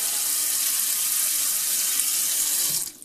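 Water runs steadily from a faucet into a kitchen sink with a newly installed garbage disposal, a loud continuous hiss that cuts off near the end.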